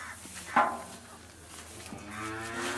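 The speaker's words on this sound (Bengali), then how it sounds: "এটা হচ্ছে দ্বিতীয় গরু" A Friesian heifer at a cattle sale in Chatmohar, Pabna, lets out a short low moo followed by a longer, drawn-out moo, close and clear with little else around.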